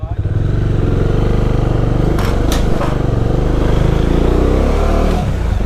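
Two motorbikes roar past on a mountain road between Kullu and Dharamshala, loud and close, their engine drone filling the whole stretch with a steady rumble and brief rising whooshes as they go by.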